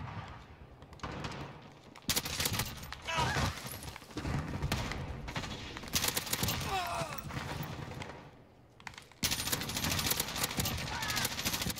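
Gunfire from an M4A1 rifle in Modern Warfare, bursts of shots in a dense, loud game soundscape that cuts out briefly near the end before resuming, with voices heard over it.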